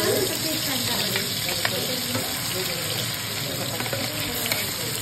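Ingredients frying in hot oil for a matar paneer masala, giving a loud, even, continuous sizzle close up with a few faint clinks and no talking.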